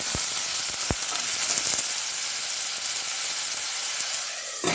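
Frozen spinach sizzles as it cooks in a pan, a loud, steady hiss of frying and steam throughout, with a few sharp knocks of a utensil stirring near the start.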